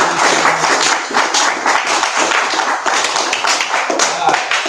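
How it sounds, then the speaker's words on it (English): Scattered clapping from a recovery meeting group, brisk and uneven, mixed with voices and room chatter throughout. "If you're clean and sober, give yourself a round of applause."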